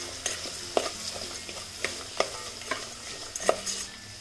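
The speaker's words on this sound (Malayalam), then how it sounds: "ഇതിൻ്റെ ഒപ്പം തന്നെ ഞാൻ എപ്പോഴും ചെയ്യുന്ന പോലെ കാഷ്നട്ടും കിസ്മിസും കൂടി ഇട്ട് കൊടുക്കണം." Cashews and raisins frying in ghee for ghee rice, a steady sizzle with several sharp scrapes and knocks of stirring spaced about every half second, close and clear with no talking.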